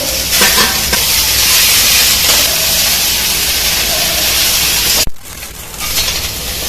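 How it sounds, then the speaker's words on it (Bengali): Fried egg pieces dropped into chowmein sizzling in a hot pan, making a loud, close, steady hiss that breaks off abruptly near the end, then resumes more softly. "ডিম ভাজাগুলো দিয়ে দেবো।"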